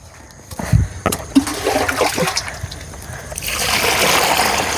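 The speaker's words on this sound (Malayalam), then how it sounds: "ഇത്രയും ചെയ്ത് കഴിഞ്ഞാൽ ഇതിൽ കുറച്ച് വെള്ളം ഒഴിച്ച് വയ്ക്കാം" Water is poured into a container of cut grass in a home garden, starting with a few knocks and handling bumps, then a rising splashing gush that settles into a steady rushing stream, close and fairly loud.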